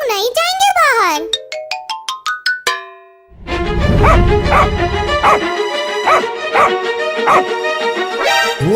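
Dog barks and yelps in a short rapid run, loud and close, after a stretch of high tones and before busy music and a voice.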